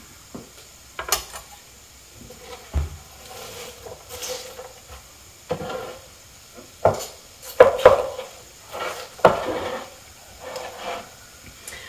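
Shredded garden cabbage is squished down by hand into bowls for sauerkraut. Irregular close crunching squeezes mix with occasional knocks against the bowl, separated by quiet pauses, and no one speaks.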